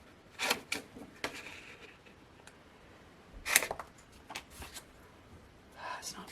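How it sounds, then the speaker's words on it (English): A big pair of scissors cuts through cardstock lined up on grid paper, giving a few sharp, close snips and crunches spaced irregularly with quiet gaps between them. "I'm literally going to cut with a really big pair of scissors."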